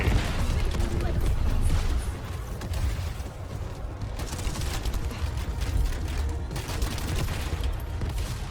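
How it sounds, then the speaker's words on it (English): Rapid bursts of gunfire in the sci-fi shooter game The First Descendant, a dense, continuous barrage with heavy low booms, loud and close for the whole stretch. "Why are you shooting me?"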